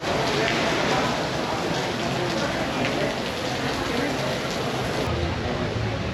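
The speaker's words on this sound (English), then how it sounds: "I would rather run through that rain" Steady heavy rain pours down at a Mexican cruise port, a dense close hiss of drops hitting surfaces that continues evenly throughout.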